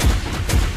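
Explosions from the One Punch Man mobile game during an arena battle, two deep booming blasts in quick succession, loud and close, with no talking.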